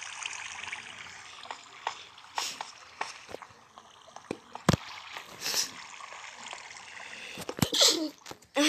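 Splashing and trickling water in a Minecraft-style block game, scattered sloshes and clicks throughout at moderate level, with a faint voice briefly.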